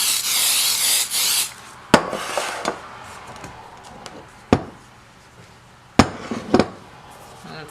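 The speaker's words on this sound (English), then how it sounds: "I'll just do a light little spray." Cooking spray hisses from a can into cake pans as a loud burst at the start. Several sharp clunks of the metal pans being set down and handled follow, spaced apart, with quiet between them.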